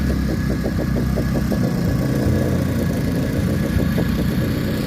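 Cheap $159 electric paddleboard or kayak motor, a Chinese knockoff of a Mud Skipper Twist, running slowly on the water, giving a steady close-up hum with a rapid pulsing rattle.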